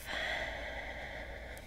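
A deep inhale taken during a guided meditation, one slow breathy intake close to the mic that holds steady for a moment and then tails off, with no one speaking over it.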